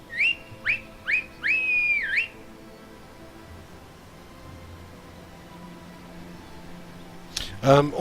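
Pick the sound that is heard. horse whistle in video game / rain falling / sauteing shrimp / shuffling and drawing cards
horse whistle in video game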